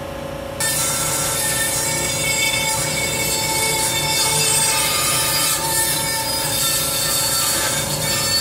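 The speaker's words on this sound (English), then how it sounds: "I'm gonna use my bandsaw to just cut out my pattern" A bandsaw cuts out a wooden cutting board pattern, starting up with a sudden rise into a loud, steady buzzing whir that continues evenly with a humming blade tone and no voices.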